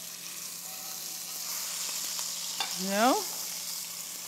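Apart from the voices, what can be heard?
apples and fennel frying in a pan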